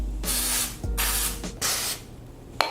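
Three short bursts of carbon chill cleaner sprayed from a can while cleaning a Nissan car part, each a loud close hiss lasting about half a second, separated by brief pauses, with a small clack at the end.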